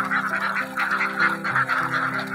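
Farmed ducks quack steadily in a dense chorus, repeated calls overlapping close by with no talk over them.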